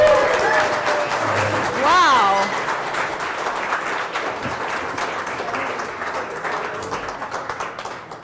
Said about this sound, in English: everybody needs to stand up and clap